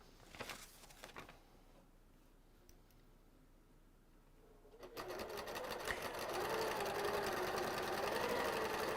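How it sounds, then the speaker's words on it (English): A sewing machine starts up and runs steadily, stitching along a seam line in a dense, continuous mechanical whir that follows a few quieter handling sounds. "And now you sew again."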